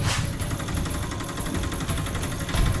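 A tempo auto-rickshaw engine runs steadily with a close, throbbing mechanical hum and no talk.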